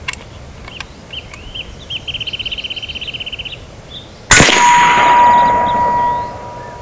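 A .30 caliber AEA Challenger Pro air rifle pellet strikes a steel target at 100 yards, heard as one sharp metallic clang that rings on briefly, after faint outdoor ambience and a short rattling chirp.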